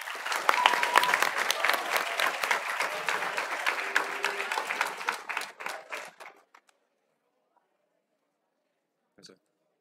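Audience applause at a school cultural event for the day of the Chinese ethnic community fills the room with sustained clapping for about six seconds, then fades out, followed by silence and a brief faint sound near the end.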